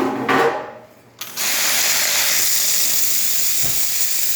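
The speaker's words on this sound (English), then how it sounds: "There you go, bunch of steam coming out through there." Steam hisses from the milk spout of a heavily scaled Jura E6 coffee machine with no hose attached, a loud steady rushing hiss that follows a brief burst and pause and then runs on continuously.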